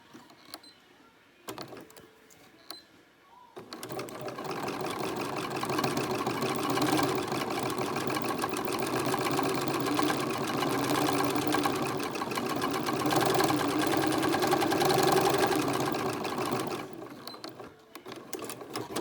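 A sewing machine stitches a fabric Christmas wreath, running in a fast, continuous mechanical whir for about fourteen seconds after a few quiet clicks and handling sounds at the start.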